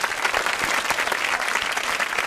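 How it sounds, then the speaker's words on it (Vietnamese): Applause from a studio audience on a Vietnamese dating show breaks out after a contestant offers to sing, a dense, steady wash of many hands clapping for a couple of seconds. "vỗ tay đi quý vị"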